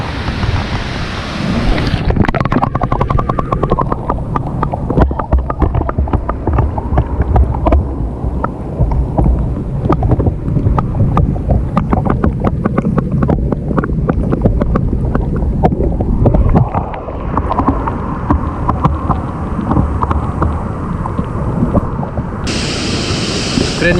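Continuous rushing roar of water at the Cachoeira da Alemoa waterfall in Coronel Vivida, Paraná, broad and steady with wind buffeting the microphone, no voices present.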